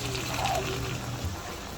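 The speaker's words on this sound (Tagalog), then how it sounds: "Lagyan na po tayo pinakulo ang tubig" Boiled water pours steadily into a pot of sautéed vegetables, a short continuous splashing gush with no talking.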